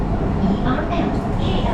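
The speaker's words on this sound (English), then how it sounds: "Really beautiful metro here." Ride on a clean, modern Kuala Lumpur metro train, a steady low rumble and hum of the moving carriage heard from inside, continuous and fairly loud.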